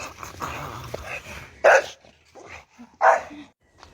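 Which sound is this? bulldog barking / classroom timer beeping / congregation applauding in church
bulldog barking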